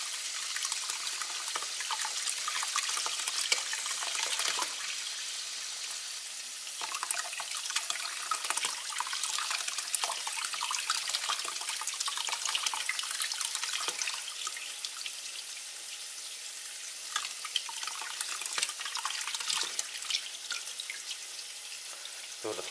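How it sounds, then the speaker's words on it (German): Water runs steadily from a tap while washed wool is rinsed by hand under the stream, a continuous hissing splash with shifting gurgles and spatters as the wool moves through the flow, with no talking. "Dann kann man auch die Wolle hier einzeln in die Hand nehmen und sie dann unter dem Wasserhahn,"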